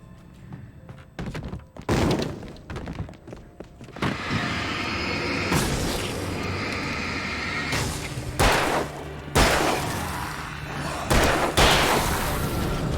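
A flashbang grenade is thrown and goes off in the video game Alan Wake, with several sharp, loud bursts and thuds scattered over a noisy, busy game soundscape.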